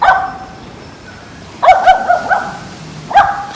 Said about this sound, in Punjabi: ਤੂੰ ਕਿਨ ਦੇਖ ਕੇ ਭੌਂਕਣ ਲੱਗ ਗਈ